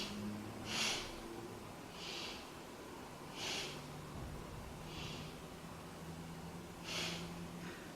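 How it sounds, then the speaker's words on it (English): Deep, slow breaths during a yoga pose, with about six evenly spaced breathy exhales rising out of a quiet room, close and soft. "Take 3 breaths here."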